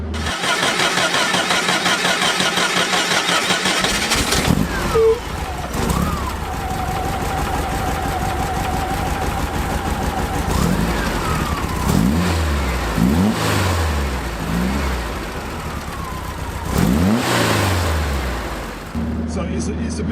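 A 1950s VW Beetle with a 1950 cc engine making roughly 110 to 120 brake horsepower cranks and fires, then settles into a rough idle broken by several sharp revs that rise and fall, close by and loud.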